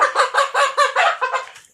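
Chickens about 102 days old cluck in a coop, a quick burst of about eight nasal clucks in a regular rhythm, close and clear.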